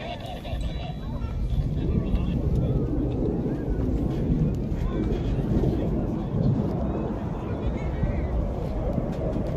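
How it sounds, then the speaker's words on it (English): An F-18 Super Hornet flies slowly at close to full power during a US Navy Blue Angels show at NAS Pensacola, Florida, making a loud, sustained jet roar with wind buffeting and a voice talking over it. "Little demonstration of how slow that F-18 Super Hornet can actually fly."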